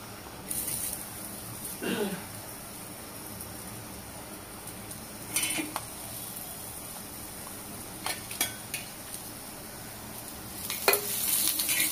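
Onion dry-roasting in a pan while cooking Marathi varan chakolya, with quiet scraping stirs and a faint low sizzle in a few separate bursts against a soft background.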